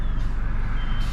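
A Sarasota county bus close by gives a quick run of electronic reversing beeps over a low engine idle and traffic rumble.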